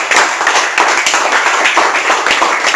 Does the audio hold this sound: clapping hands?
yes